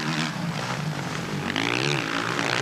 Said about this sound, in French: Là, on le voit remettre vraiment les gaz, hein, dans les ornières